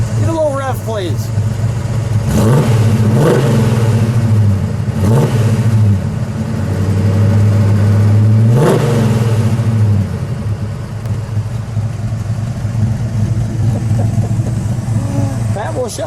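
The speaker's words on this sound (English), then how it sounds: "Give a little rev, please." A 1969 Ford Mustang Boss 302 V8 in Calypso Coral Orange, revved repeatedly from idle with sharp rises and falls, loud and close, then settling into a rumbling idle.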